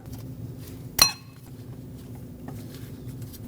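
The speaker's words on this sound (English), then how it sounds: "Stick a new cotter pin through, and this one's the type that we have to bend over to lock in," A single sharp metallic clink rings out once as a new cotter pin is bent over on the tie rod castle nut of a Lexus IS250, followed by a quiet garage background.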